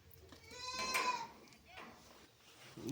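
A sheep in an enclosed pen of country sheep gives a single loud, wavering bleat near the start, followed by quieter bleating and barn noise while a person talks.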